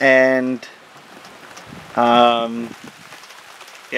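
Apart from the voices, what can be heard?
rain falling on hay field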